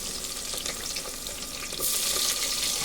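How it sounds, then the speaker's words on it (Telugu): Green chillies and onions fry in well-heated oil for a chicken-feet rasam. A loud, dense, crackling sizzle fills the whole stretch and grows brighter partway through, with no talking. "ఆయిల్ మంచిగా హీట్ అయిందనమాట. సో నెక్స్ట్ వచ్చేసి ఉల్లిపాయలు"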